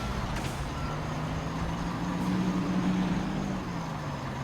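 A MAN truck rolling along in Construction Simulator, its engine a steady low drone throughout with reversing beeps and faint air-brake hiss mixed in, no talk.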